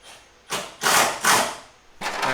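Screws are driven into the corners of a BMW F80 M3 front bumper while a J-style carbon fiber front lip and splitters are fitted, heard as several close, harsh bursts of a few tenths of a second each with short pauses between.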